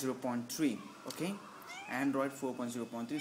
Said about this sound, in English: so that's my cat, I'm sorry for that.